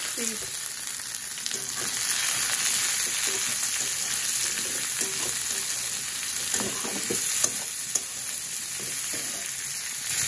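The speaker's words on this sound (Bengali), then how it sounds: "পেঁয়াজটা ভাজা হয়ে গেছে, এখন সবুজ সবুজ সুন্দর করলাটা দিয়ে দিব।" Bitter gourd and onions fry in a pan with a steady, dense sizzle that runs unbroken and fairly loud, with faint scrapes of stirring now and then.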